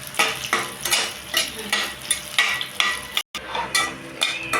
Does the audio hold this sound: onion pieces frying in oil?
yes